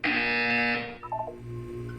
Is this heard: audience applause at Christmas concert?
no